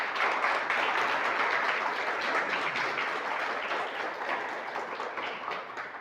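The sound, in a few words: church congregation applause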